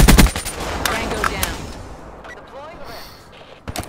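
An AK-74u fires rapid bursts in a video game, with dense, sharp cracks close up and fast rhythmic shots that fade into echoing reverberation, while a voice talks over the action.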